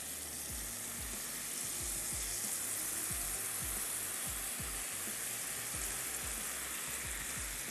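Boiled chana dal is added to a hot pan of dal makhni and stirred in, giving a loud, continuous broad sizzle with regular low scraping strokes of the spoon pulsing through it, close and without any talk.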